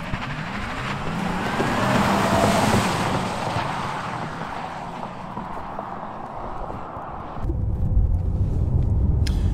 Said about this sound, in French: j'en profite de cette petite balade dans cette Taycan, donc je vous rappelle tout électrique